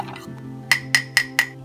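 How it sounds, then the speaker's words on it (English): A spoon clinks against a cup while stirring a slurry, four sharp evenly spaced taps in quick succession, close and clear with no talk. "just stir it up"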